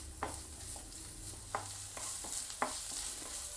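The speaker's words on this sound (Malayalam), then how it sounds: "സവാള ചേർക്കാം. ഫുൾ ഫ്ലെയിമിൽ വെച്ചിട്ട് തന്നെ നന്നായിട്ടൊന്ന് വഴറ്റിയെടുക്കണം." Chopped onions sauté over a full flame in a pan for chilli chicken gravy, a steady soft sizzle broken by a few distinct scraping stirs of a spoon, fairly quiet and close.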